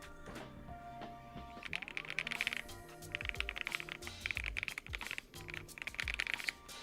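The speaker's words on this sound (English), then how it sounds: "Very wonderful sounding keyboard" Keystrokes patter on a creamy-sounding computer keyboard, starting sparse and then running in quick, soft bursts of clicks at close range, fairly quiet, with no talk.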